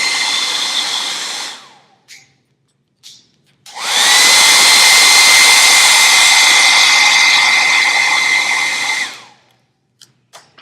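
A heat gun blows hot air onto a Worbla thermoplastic belt for a custom action figure, a loud steady rushing roar in two bursts: a first stretch of about two seconds, a brief pause with clicks, then a longer run of about five seconds.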